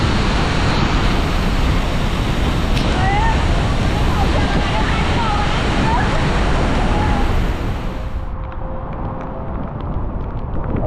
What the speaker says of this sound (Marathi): छोटा धबधबा आहे सगळ्यात खूप सुंदर धबधबा आहे हा